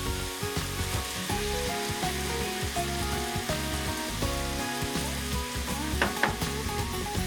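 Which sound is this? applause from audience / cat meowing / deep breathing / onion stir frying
onion stir frying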